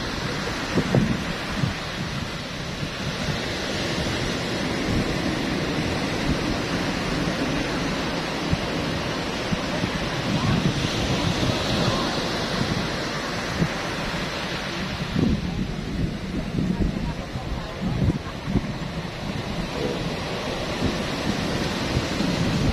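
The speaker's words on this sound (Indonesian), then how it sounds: "Ini untuk cuaca ombaknya masih belum normal ya, masih gede ya kondisi ombaknya" Large waves break on a beach along Indonesia's Pangandaran east coast, a continuous roar of surf and wind noise with repeated crashing surges, while people speak faintly now and then.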